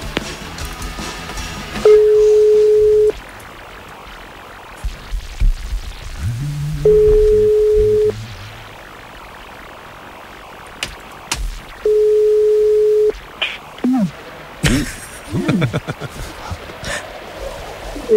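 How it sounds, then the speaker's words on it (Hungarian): Steady telephone line tone during a call to a radio listener on a morning show, three separate beeps each lasting about a second, spaced apart amid quiet studio noise and faint handling sounds. "hívjuk gyorsan a naphallgatóját"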